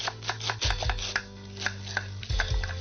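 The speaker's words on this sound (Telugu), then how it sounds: "సన్న కట్ చేయి, సన్నగరా. ఉల్లిపాయ కూడా." A knife chops carrot and onion thinly on a board: quick, crisp taps in an uneven rhythm, close and clear, with no talk.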